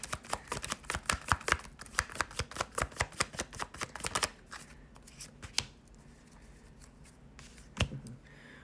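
Tarot cards being shuffled, a quick run of crisp riffling snaps for about four seconds, then quieter handling and a few separate card flicks as cards are pulled, close by with no speech.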